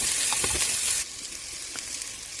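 Carrots and potatoes fry in hot oil, giving a close, steady sizzle with a bright hiss that drops slightly midway, plus a few soft stirring scrapes.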